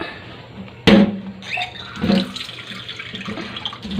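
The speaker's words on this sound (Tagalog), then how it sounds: "Magdagdag tayo ng tubig." Tap water pours into a cooking pot of beef broth with a loud gushing onset, followed by uneven splashing and a second surge as the flow continues close by.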